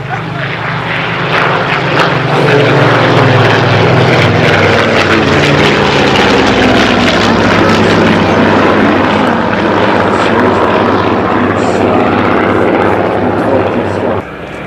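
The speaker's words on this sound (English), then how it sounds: "element after element, each aircraft breaks left individually" Propeller warbirds breaking left one after another at a flying display, a loud continuous engine drone with shifting pitch as the aircraft pass overhead, with a voice commentating throughout.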